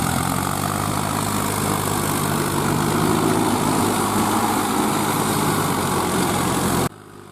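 A Massey Ferguson 246 Dynatrack 4wd tractor engine runs nearby with a constant, loud droning rumble and a buzzing edge. It stays even until it cuts off abruptly near the end, leaving only a faint background hiss.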